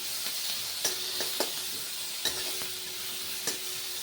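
Masala gravy being stirred and browned in a pan, a steady sizzling fry punctuated by several sharp scrapes of the spoon against the pan, close and clear with no talking.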